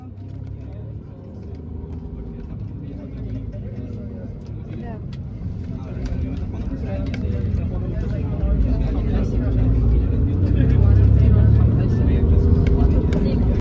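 Overnight coach pulling out of Malaga bus station, a low engine rumble heard from inside that grows louder and heavier as the bus accelerates, with faint rattles on top.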